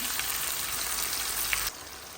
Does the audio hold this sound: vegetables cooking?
yes